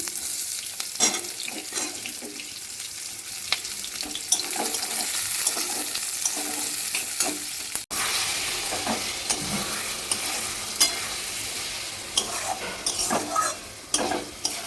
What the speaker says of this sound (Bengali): ওর মধ্যে দিয়ে দিলাম পেঁয়াজ আর সামান্য একটু তেল দিয়েছি